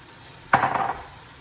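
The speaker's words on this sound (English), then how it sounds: "So I'm going to add the spinach in here, just like that." Fresh spinach leaves dropped into a hot cooking pan for palak paneer, giving one sudden close sizzle and rustle that fades within about half a second.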